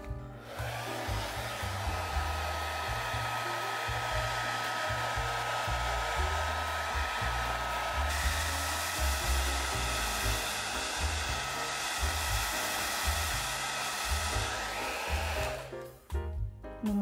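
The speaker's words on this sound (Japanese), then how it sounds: "ドライヤーの温風で一気に乾かします。" A hair dryer blows warm air over wet watercolor paper, a loud steady whirring roar that runs continuously for about fifteen seconds, shifts slightly in pitch partway through, then cuts off at the end.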